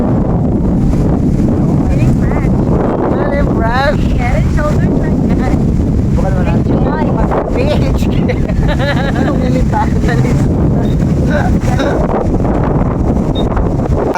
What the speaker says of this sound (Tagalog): malapit nga pala ito sa dagat ay sobrang lakas nga pala ng hangin rito